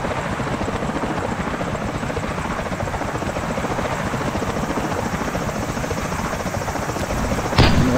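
A helicopter airlift in the VR game Island 359, with a loud, close, continuous rotor chop and engine drone that holds steady throughout, plus a brief sharp click near the end.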